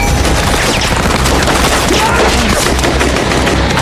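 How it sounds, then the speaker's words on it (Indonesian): Rapid bursts of automatic gunfire and shots fill an action-film shootout as robbers open fire on people climbing out of a car, loud and dense throughout, with faint voices underneath. "mereka kemudian ditembaki karena terlihat membawa senjata"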